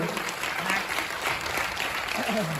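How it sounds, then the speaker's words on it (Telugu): An audience at a business question-and-answer session bursts into steady, dense clapping throughout, loud and continuous, with a faint murmur of voices underneath. "గట్టిగా క్లాప్స్ ఇవ్వండి వీళ్ళందరికీ"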